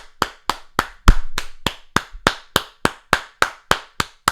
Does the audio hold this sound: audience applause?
yes